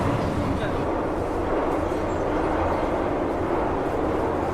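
A Hong Kong underground train runs, making a steady, loud rumble and roar throughout with no breaks, in the way of a moving carriage heard from inside.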